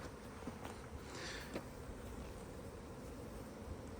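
Honey bees swarming thickly in an opened nine-frame hive during spring splitting, a constant close, low buzzing drone with no speech.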